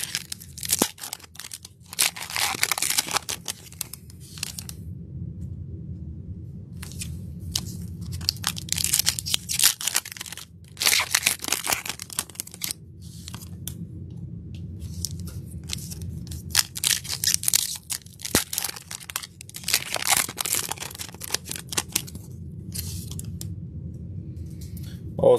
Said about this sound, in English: I like to rip packs.